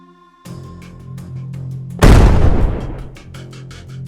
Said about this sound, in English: smoke and dust erupted, metal splattering, engulfing the attackers in an explosion that left no room for retreat